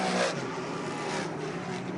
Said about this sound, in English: And now we've got a car slowing over in turns number 3 and 4